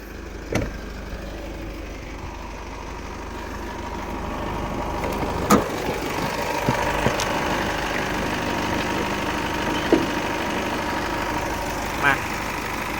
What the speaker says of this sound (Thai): เครื่องยนต์เดินนิ่ง เงียบปกติเลยนะ ไม่มีอาการสะดุดเดี๋ยวเรามาดูเครื่องยนต์กันนะครับ